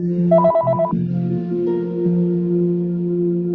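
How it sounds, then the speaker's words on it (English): A mobile phone ringtone chirps in a quiet yoga class, a short bright melodic burst followed by sustained tonal ringing, with no talking. "Somebody's phone's on, is on."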